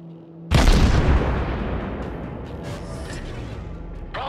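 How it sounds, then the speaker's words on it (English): A loud explosive boom erupts as an enemy battleship is destroyed in World of Warships, then fades into a long rumbling crackle of fire and debris with faint tones underneath. "We've destroyed an enemy battleship."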